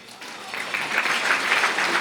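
Guests at the Westcoast LEAF Equality Dinner burst into applause that quickly swells into a dense, lively clatter of clapping from a full room.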